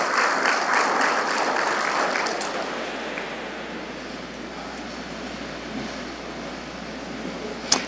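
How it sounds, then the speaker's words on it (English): Audience applause at a leadership and service awards ceremony, a steady broad wash of clapping that is loud at first and gradually thins and softens toward the end, with no talk over it. "Give Devin another round of applause."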